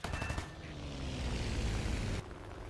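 A German anti-aircraft half-track fires on an F4U-4 fighter plane in a video game. Rapid rattling bursts of flak come at the start, then a loud, steady engine roar and whoosh that cuts off abruptly near the end.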